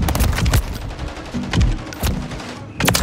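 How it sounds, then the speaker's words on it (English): Bursts of automatic gunfire from the Call of Duty Modern Warfare 3 Warzone video game, loud and close, several rapid volleys separated by short gaps with booming low-end impacts. "I'm taking fire."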